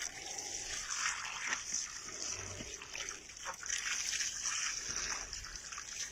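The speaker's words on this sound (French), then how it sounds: "Je vais arroser d'ailleurs pour faire voir. Un petit coup de tuyau comme ça." Garden hose spraying water onto seedlings, the jet broken up by a bamboo stick, making a steady soft hiss and patter of trickling, splashing water at close range that continues throughout.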